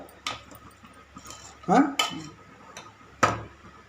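Metal spoon scraping and knocking in a pot while coconut-milk rice is stirred from the bottom up, with several sharp clanks spread over a few seconds and brief talk between them.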